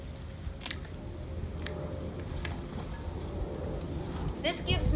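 Shears snip pieces off a succulent plant outdoors, making a few crisp close cuts with crunchy stem noises over low background rumble.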